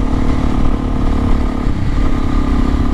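Modified Suzuki DRZ400S dual-sport motorcycle ridden off road, its single-cylinder engine droning steadily and loudly up close with a continuous, slightly wavering roar and no let-up.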